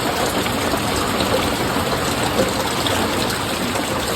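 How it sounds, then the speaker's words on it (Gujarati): Rain falls steadily with rainwater running and gushing nearby, a constant close wash of water noise with no voices. "એ બધો વરસાદ આવે છે."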